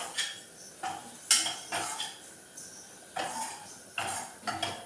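A spoon scrapes and clinks against a pan as flour is stirred into white sauce for pasta, giving irregular close metallic taps and scrapes alone with no talk.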